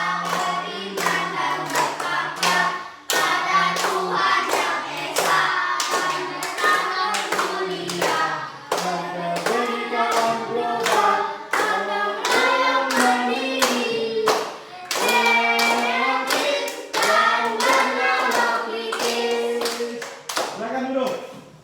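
A group of schoolchildren sings loudly in Indonesian while clapping their hands to the beat, rhythmic claps running under the voices throughout with a few brief breaks between phrases.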